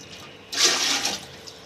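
Water is poured into a cooking pot for rice rava vadiyalu, a brief splashing gush of under a second that rises abruptly out of quiet and fades, heard alone.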